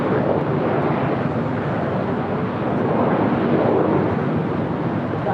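An airliner takes off from runway 24 left at LAX, a broad continuous roar of jet engines heard at a distance, steady and unbroken with no talk over it.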